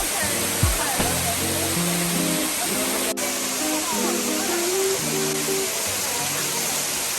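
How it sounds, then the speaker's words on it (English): A waterfall in Bali roars as a loud, steady wash of rushing water, with faint muffled tones and a brief knock beneath the constant noise. "I cannot believe I'm in a literal waterfall in Bali."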